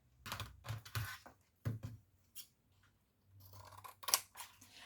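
Scissors cutting through salvaged material, a few close, crisp snips in short bursts separated by quiet pauses, then a steadier stretch of cutting.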